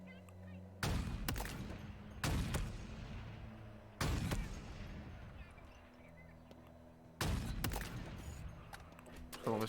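Gunfire in a video game: several loud, sharp bursts at irregular intervals, each with a short ringing decay, over a low continuous game background.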